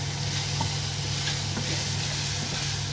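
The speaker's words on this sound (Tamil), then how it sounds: "ஓரளவுக்கு வதங்கினா போதும், ரொம்ப வதங்க வேண்டியதில்லை." Onions sautéing in a pan while neer kozhukkattai is being made, giving a steady, moderate sizzle with faint stirring throughout and no voices.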